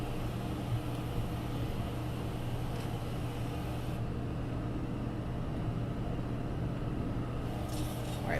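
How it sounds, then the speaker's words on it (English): Boeing 737NG flaps running down to position 2 in the LevelUp flight simulator, a steady broadband cockpit rumble that shifts in tone partway through, with no talking. "Alright, flaps are coming down to 2."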